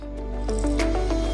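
Water poured into a bowl of bread-stick batter seasoned with chili flakes and chaat masala, giving a steady wet squishing and splashing close by over a low background hum.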